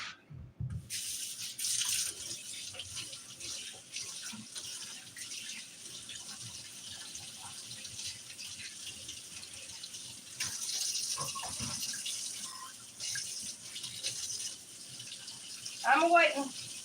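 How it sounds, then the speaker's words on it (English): Warm water runs from a kitchen tap into a small mug holding dried milk, a steady broadband hiss of flowing water lasting throughout, with brief clatters and a short burst of louder splashing near the end. "And I'm going to put warm water in it."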